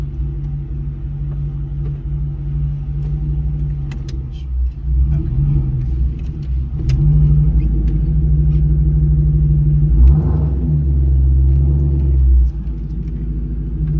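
A Ford Mustang idles and then pulls slowly out into the street. Its engine makes a loud, steady low rumble that swells gently as it moves off, heard from inside the car.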